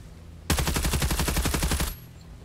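A rapid burst of automatic gunfire from a video game shooting out a vehicle's tires, about a dozen close, loud evenly spaced shots in one continuous volley lasting around a second and a half before cutting off.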